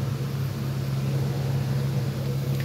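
A rechargeable handheld mixer stirs a sweet dumpling mixture, giving a steady, continuous low motor hum with a rough grinding texture, loud and unbroken throughout.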